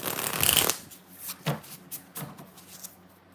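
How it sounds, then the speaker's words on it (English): A deck of tarot cards being shuffled, a dense riffling burst followed by several softer, separate card slaps and taps, close and clear with no talk. "2 more shuffles. We're still breaking this deck in."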